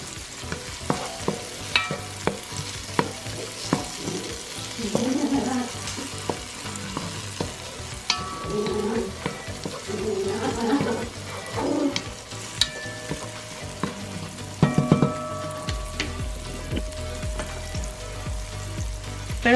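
Chopped onion sizzles and fries steadily in a hot pan, a continuous crackling hiss with occasional clicks and scrapes of stirring, heard close and alone without voices.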